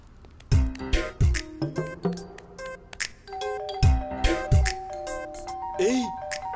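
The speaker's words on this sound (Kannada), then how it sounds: "ಏಯ್ ಆ ಮಗು ಕಣೋ ಬೆಲ್ ಹೊಡಿತಿರೋದು." A doorbell rings repeatedly in a Kannada-dubbed comedy film scene, several sharp ding-dong chimes in quick succession with lingering tones, mixed with bumps and a brief voice in the background.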